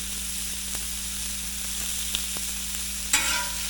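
Cheesesteak meat spread out on a griddle, frying with a steady low sizzle and faint hiss, a few small ticks and a short brighter crackle of spatula contact near the end.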